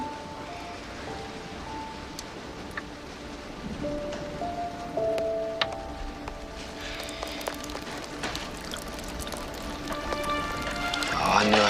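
Steady rain falls outside during a frontier storm, a soft continuous patter with scattered drips and occasional louder splashes, growing slightly stronger toward the end.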